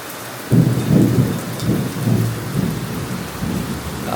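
Rain falls steadily over rice fields while thunder rumbles low and close in repeated rolling swells, with the storm loud and no voices.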